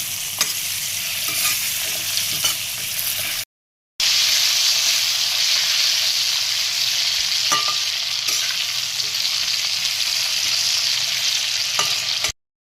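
Potatoes frying in oil in a pan, cooked for a pointed gourd and potato curry, hiss with a continuous loud sizzle, broken by a short gap and a few light clinks of stirring.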